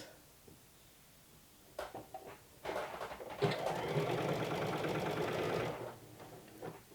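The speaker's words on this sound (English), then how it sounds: "using either your cover stitch or just your sewing machine." A sewing machine runs a steady stitching burst of a few seconds on knit fabric while topstitching a wrap garment's side split, with short clicks and handling noises before and after the run.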